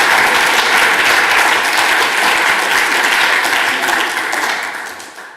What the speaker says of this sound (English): Let's give Barrett a big round of applause.